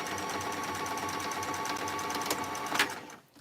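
A sewing machine runs in a steady, close, continuous hum with a rapid needle rhythm as it stitches up the sides of a fabric bag edged with bias binding, then stops abruptly just before the end.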